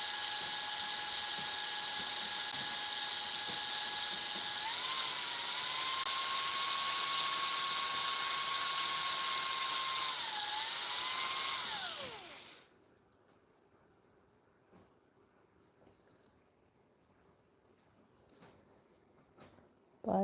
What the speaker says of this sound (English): I don't know if my drill is just getting old and it just gets louder the older it gets